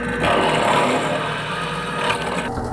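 A drill bores into metal with a 25/64 bit lubricated with cutting oil, giving a continuous grinding whir with a slight rise and shift near the end and no talk.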